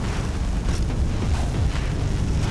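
A building blows apart in the Far Cry 3 video game, heard as a loud, sustained rumbling explosion with deep booming roar and crackling debris filling the whole stretch.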